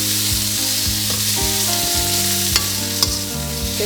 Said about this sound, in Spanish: Voy a poner la cebolla y vamos a freírlo un poco